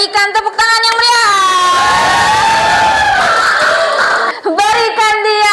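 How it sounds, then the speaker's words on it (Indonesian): Schoolchildren in a classroom cheer and shout in a loud, sustained burst of high, overlapping voices, with faint clapping buried underneath. "Berikan tepuk tangan yang meriah."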